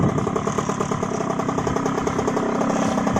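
A child's small motorcycle engine idles nearby with a steady, rapid putter, loud and continuous throughout.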